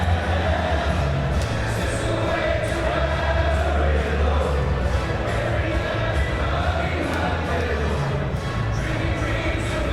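A large crowd singing at a Mosconi Cup pool match, a steady, loud sustained chant filling the hall from start to finish.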